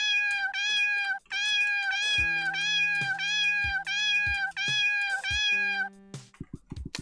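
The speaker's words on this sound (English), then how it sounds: "I just thought you guys might want to hear a few meows." A video game cat meows over and over in a clear, bright, tonal loop, with a few short low blips and clicks toward the end.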